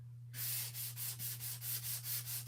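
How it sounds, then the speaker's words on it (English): Yellow paint being sanded on wood by hand, a series of about nine rhythmic scraping strokes that starts after a brief quiet moment, close and clear over a steady low hum. "just sand this yellow to lighten it up and give more contrast"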